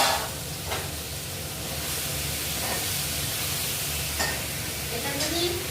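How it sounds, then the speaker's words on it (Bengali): Masala spices go into hot, previously used oil for a hilsa fish head and cabbage curry, giving a steady broadband sizzle with a few faint scrapes of stirring throughout, fairly close and continuous. "ওই তেলটার মধ্যে, পুরোনো তেলটার মধ্যেই মশলাটা দিয়ে দিচ্ছি"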